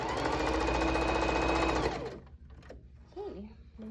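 A sewing machine runs fast and loud as it stitches a pillowcase, a dense mechanical whir that stops abruptly halfway. A few clicks follow, and then a voice begins speaking.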